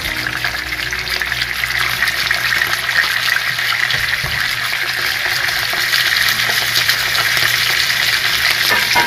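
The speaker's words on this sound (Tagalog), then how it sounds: "Pipritohin muna natin ito mga Koblax." Pompano fish frying in hot oil for a sweet and sour dish, with a loud, steady crackling sizzle that runs unbroken throughout and no one speaking.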